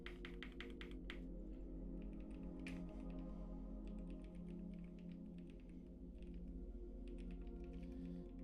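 Computer keyboard keys click in quick bursts during a fighting-game session of Marvel Tōkon: Fighting Souls, fairly faint and close under a low steady hum, with gaps between the flurries of taps.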